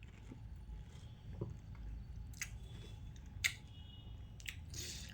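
Someone eating homemade phuchka filled with very sour tamarind water, giving faint, close, soft squishing and chewing sounds with a few brief wet clicks over a quiet low background hum.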